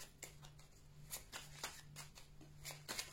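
Tarot cards being shuffled by hand: soft, quiet riffling bursts repeat in a loose rhythm, close and faint, with no talking.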